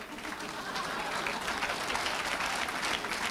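An audience applauds a performer at a Rwandan comedy show, a dense steady wash of clapping from a large crowd that carries evenly throughout.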